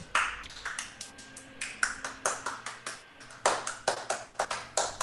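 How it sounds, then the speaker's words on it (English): Quick hands smacking against headphones or clapping in an irregular burst of sharp taps, close and fairly quiet, scattered across a few seconds. "Why are you clapping?"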